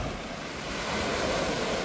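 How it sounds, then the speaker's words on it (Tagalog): Strong ocean waves roar continuously, a heavy broadband surge of surf that swells slightly louder partway through, with no voices. "habang malakas pang alon"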